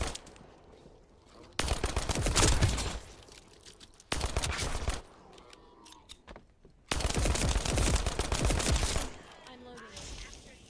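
Pistol fire in The First Descendant comes in rapid, loud bursts of repeated shots separated by quieter gaps, the volleys fast enough to sound almost automatic.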